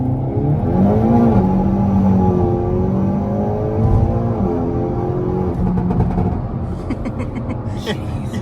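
Hyundai Elantra N fitted with an XForce downpipe exhaust revs and accelerates, engine pitch sweeping up and down in loud rising pulls heard from inside the cabin, with people talking over it.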